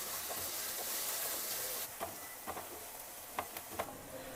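Onion, ginger and garlic paste frying in a pan: a steady hiss of oil for the first couple of seconds, then a softer sizzle broken by a few sharp ticks of a spoon scraping the pan.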